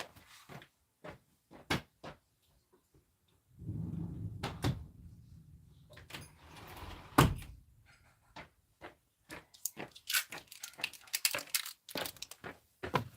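A door in a home is pushed shut among a string of soft knocks and handling noises, with a brief rumbling stretch and one sharper thump midway, all fairly quiet and close with no talking.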